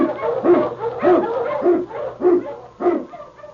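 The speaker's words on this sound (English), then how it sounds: "King, the swiftest, strongest of Eskimo lead dogs, blazes the trail through storm and snow" An Eskimo sled dog barks in a classic radio drama, giving about six rhythmic, moderately close woofs with a slight yelping edge, evenly spaced over a few seconds.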